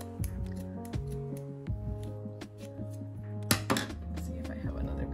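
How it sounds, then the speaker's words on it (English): Scissors snip through yarn repeatedly up close, a series of crisp metallic cuts at an uneven pace over a low steady hum. "the further you can get your scissors in, it gets a little bit easier"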